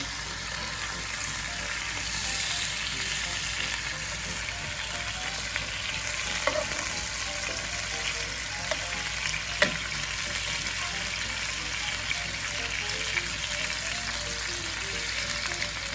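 Chicken tikka fries on a tawa, giving off a steady, moderate sizzle with occasional soft clicks and pops of spattering oil, heard alone without talk.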